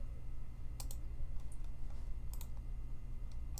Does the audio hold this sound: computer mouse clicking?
yes